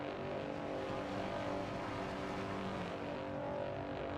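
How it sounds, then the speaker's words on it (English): Race car engines in a GT500 racing video game at the Autopolis circuit rev hard on the starting grid, a dense, steady, loud engine roar running unbroken throughout. "You definitely see the cursed one just absolutely revving the hell out of his engine."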